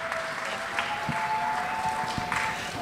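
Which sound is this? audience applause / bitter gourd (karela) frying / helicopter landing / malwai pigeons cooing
audience applause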